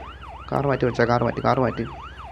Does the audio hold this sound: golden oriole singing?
no